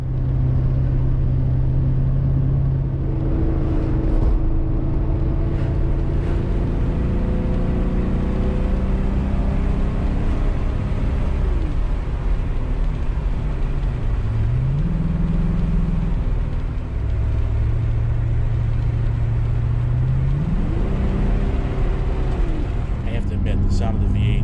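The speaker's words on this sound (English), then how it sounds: "The sound of the V8 is quite addicting." A 1985 Porsche 928S V8 with true dual exhaust drones steadily while driving, its low rumble climbing and dropping through gear changes, heard from inside the car with someone talking over it.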